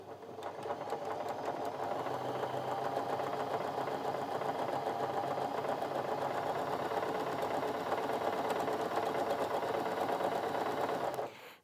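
A Janome J3-24 sewing machine runs steadily through fabric, a close, even mechanical whir with rapid needle rhythm sustained for about eleven seconds before stopping abruptly.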